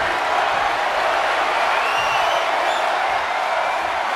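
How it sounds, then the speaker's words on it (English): Arena crowd roaring in the WWE 2K23 wrestling video game during a Monday Night Raw match, a loud, steady wash of cheering that stays constant throughout. "What a raucous crowd here tonight."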